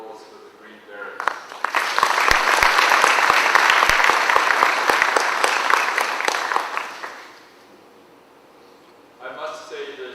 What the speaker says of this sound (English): we need a special further round of applause for the Green Berets